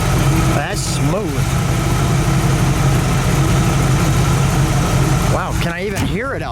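A 1955 Buick Century engine idles steadily with a smooth, low rumble throughout, while people talk close by over the running motor.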